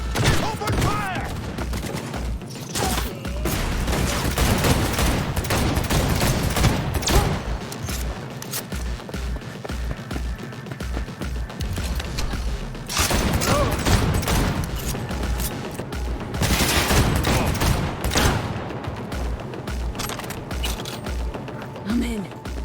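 Gunfire in a firefight from the video game Cyberpunk 2077, with rapid bursts and heavy thumps running almost the whole way, loud and dense, mixed with game music and effects, with louder flurries near the start and middle.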